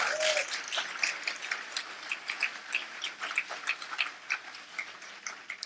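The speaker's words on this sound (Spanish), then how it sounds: "Bien fuerte ese aplauso al Señor." A church congregation claps for the Lord during a Spanish-language sermon, moderately faint, sustained applause with rhythmic, sharp claps scattered through it.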